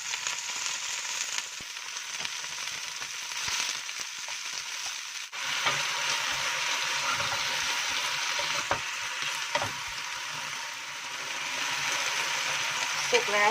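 Wild vegetables and egg stir-frying in olive oil, a continuous close sizzle with scraping stirs and crackles, briefly quieter before surging louder, with occasional speech.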